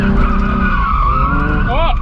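A stock Nissan 350Z, stability control switched off, attempting a drift with its tires skidding and squealing in a sustained, loud screech over engine noise, a rising chirp near the end, with people talking over it.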